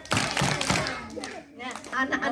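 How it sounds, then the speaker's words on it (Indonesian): Children clap their hands in time to a sing-along at a kindergarten morning gathering, with a few sharp claps mixed into voices singing and talking over them. "Kalau kau suka hati tepuk tangan"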